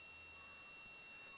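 A steady, thin high-pitched electronic whine from an inverter holds throughout, faint and continuous against quiet background hiss.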